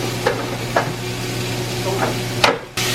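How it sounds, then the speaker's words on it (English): BBQ cheddar pork burger patties sizzle in a pan beside toasting buns, a loud steady frying hiss punctuated by a few sharp scraping or tapping knocks from a utensil. "Toast buns to golden brown while patties are cooking."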